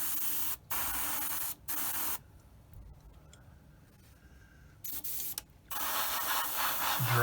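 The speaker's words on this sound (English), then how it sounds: "I'm going to spray the white primer first" Bursts of an airbrush spraying white Mission Models acrylic primer, several short close hisses separated by brief gaps, then a quieter stretch before longer sprays resume.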